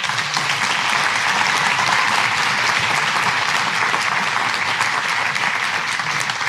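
A college audience at an opening day address gives loud, sustained applause, a dense even wash of clapping that lasts throughout.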